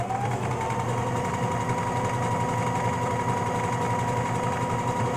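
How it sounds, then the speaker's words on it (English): A sewing machine stitches continuously, giving a steady, close, high-pitched mechanical whirring hum with a fast rhythmic pulse and no pauses or voices. "Reverse stitch. And keep on sewing."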